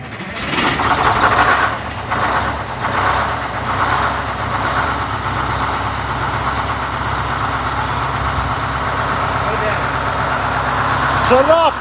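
A car engine idling and running on its first road test drive, a loud, close, continuous mid-pitched rumble with slight surges, with people talking over it at times.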